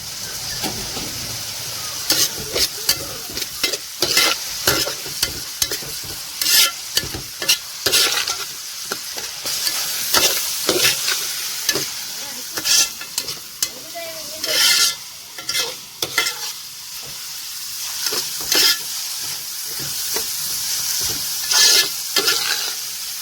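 Onions sauté in a pan for a crab roast with coconut milk, sizzling steadily under repeated scraping and clattering stirs, loud and close, with no voices.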